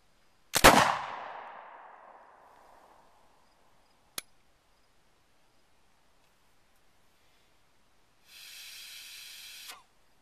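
A single loud blast from a .75 caliber smoothbore musket loaded with shot like an 11-gauge shotgun, fired outdoors at a cardboard target, with a long decaying echo, a brief sharp click later, and a steady hiss near the end.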